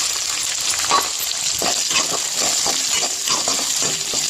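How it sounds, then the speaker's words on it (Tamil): Small onions and curry leaves sauté in a hot pan for a chutney, giving a steady close sizzle and crackle with occasional stirring scrapes, no talk. "இதுவும் நல்லாவே வதங்கட்டும்"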